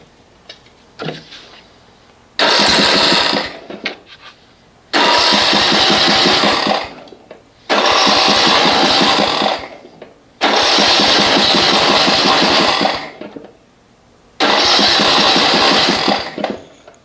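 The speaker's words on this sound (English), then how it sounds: "it's going to run a little bit funky until I put the choke off" A Snapper RER Comet riding mower engine, rough-running in cold weather with the choke on, cranks loudly in five long bursts of roughly two to three seconds each, separated by brief pauses, never settling into a steady idle.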